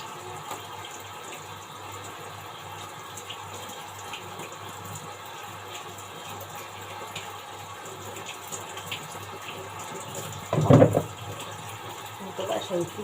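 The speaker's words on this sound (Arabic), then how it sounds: "الطينه اللي بتبقى ماسكه فيها ديت بشيلها كده تحت الحنفيه كده كده" Water runs steadily from a kitchen tap as mud is rinsed off a vegetable, a continuous close splashing hiss with a brief louder gush near the end.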